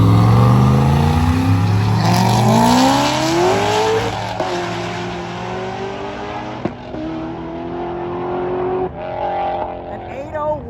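A twin-turbo LS-swapped Camaro makes a drag strip pass at a Carolina drag event, running without a radiator: the engine revs hard and climbs through gears before fading into the distance, with crowd voices and commentary over it.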